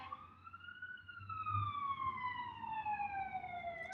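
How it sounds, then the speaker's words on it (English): An emergency vehicle siren outside a window on a nearby street wails in a long, slowly falling tone, moderately distant and steady. "sirens going out my window."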